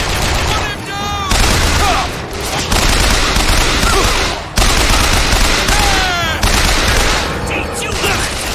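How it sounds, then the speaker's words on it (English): Dense, sustained gunfire from the video game BioShock Infinite, loud and continuous automatic shots with booming impacts and chirping effects, while voices shout amid the battle. "Don't stop shooting!"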